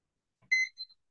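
A short electronic kitchen timer beep, a bright sustained tone followed by a quicker second chirp, close and clear against silence.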